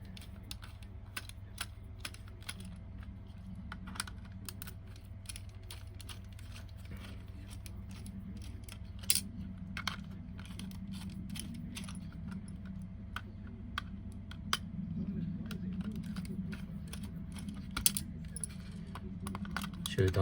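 Four screws being backed out of a Scalextric slot car chassis: faint, irregular metallic ticks and clicks close by over a low steady hum, with no talk.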